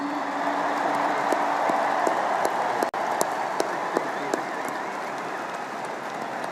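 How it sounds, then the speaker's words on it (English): An audience at a Patriots Hall of Fame retirement ceremony applauds in a steady, dense wash of clapping, with a few sharper claps standing out and a brief dropout partway through. "Let's give them a round of applause."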